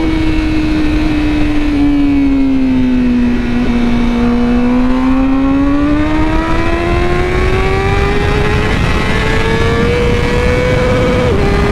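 A Honda motorcycle accelerates hard in first gear on a rough road. The engine whine is loud and close, dipping briefly and then climbing steadily in pitch, with no talking.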